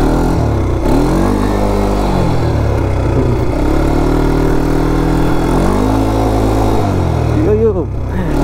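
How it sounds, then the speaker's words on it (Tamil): A 200cc off-road buggy engine revs as the accelerator is pressed, a loud droning motor that rises and falls in pitch several times, with someone talking over it. "இந்த மாதிரி ப்ரெஸ் பண்ணனா வண்டி பவர் ஆக போகுது."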